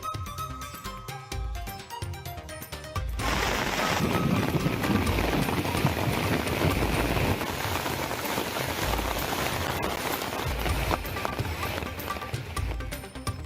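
Steady, dense rainfall drums across surfaces during a widespread downpour, loud and continuous, heavier after the first few seconds, with a faint rhythmic clatter underneath at the start.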